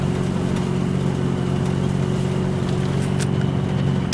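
Turbocharged car engine on a first drive after a budget turbo build, giving a loud, steady droning hum with constant engine tone and no talking.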